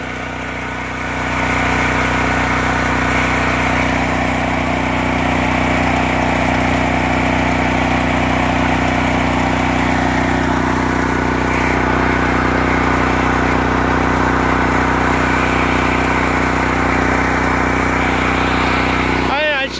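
A portable generator, started cold, runs under an electrical load with a steady, loud, humming engine drone close by, its tone holding even throughout.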